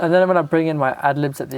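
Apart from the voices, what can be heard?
None of the usual background noises is heard.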